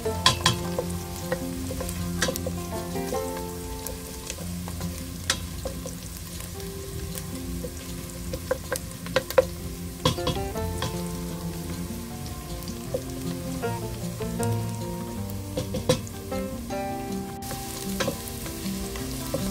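Garlic sautéed in a pan with onions gives a steady, moderate sizzle, broken by sharp clinks and scrapes of stirring throughout, with no speech.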